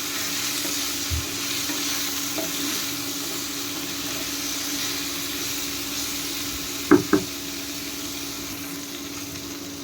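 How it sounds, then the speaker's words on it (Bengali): Vegetables for Bengali sukto sizzle steadily in a pan after salt is added, with soft stirring scrapes and a couple of sharp utensil clinks near the end. "নুন দিয়ে দেওয়ার পরে আরেকটু নেড়ে দিলাম"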